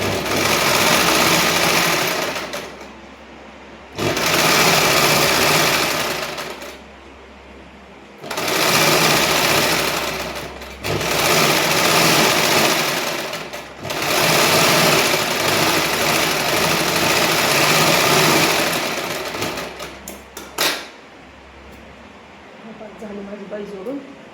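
A sewing machine stitches the lining of a blouse in loud bursts of rapid mechanical whirring, several runs of a few seconds each separated by short pauses, close up.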